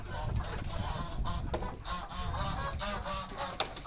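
Geese honk repeatedly and loudly nearby, a raucous overlapping chorus of squawks that goes on throughout.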